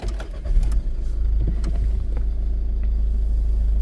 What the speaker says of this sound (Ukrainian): І давайте запустимо наш двигун.